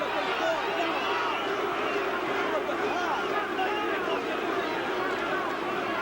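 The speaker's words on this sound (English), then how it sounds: "The crowd are just dying for a knockout here." Boxing arena crowd at a professional bout, a dense continuous roar of chatter and shouting that fills the space evenly, steady and loud throughout.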